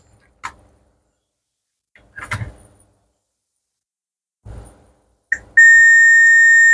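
A few short clicks and taps, then a multimeter's sustained high-pitched continuity beep on a shorted laptop motherboard starts abruptly and holds steadily to the end.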